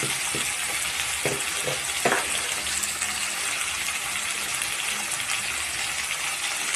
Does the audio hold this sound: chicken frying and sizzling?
yes